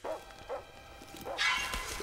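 A dog barks in the 2003 horror film Jeepers Creepers 2, giving two short, fairly close barks in the first second. A brighter hiss-like noise rises near the end.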